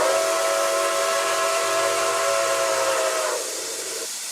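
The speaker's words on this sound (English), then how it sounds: "let's just hear the whistle" The steam whistle of the Nickel Plate Road 765 locomotive in a video game blows one long, loud chime over a hiss of steam, then cuts off, leaving the steam hissing as it fades.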